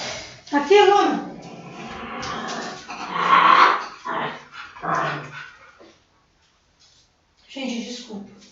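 Two dogs, a tiny one about a hand's span tall and a large one, growl, snarl and yelp in a scuffle indoors, in bursts separated by short quiet gaps, with a voice speaking over parts of it.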